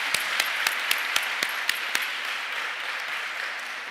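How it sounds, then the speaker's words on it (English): A crowd in Birmingham Town Hall claps in a steady, dense wash of applause. Sharp rhythmic clicks stand out above it in the first two seconds. "So let's give that school a huge round of applause."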